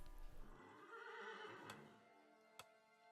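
Horses in a video game let out a loud whinnying neigh, followed by faint clip-clop hoofbeats and a sharp tick near the end, with no talk.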